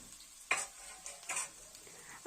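Bitter gourd and potato being stir-fried with slit green chillies in a pan, with a few scraping stirs and soft sizzling bursts, close and moderately loud, and a sharper clatter at the very end.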